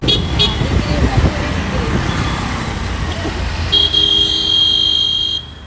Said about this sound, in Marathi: इथला हॉर्नचा आवाज येशी